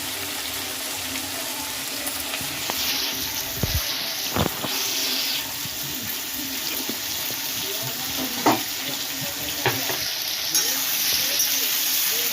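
Potatoes cook with mustard in a pan, a steady low sizzle and faint stirring scrapes with a few sharp knocks, while running water and a faint high whine sit in the background.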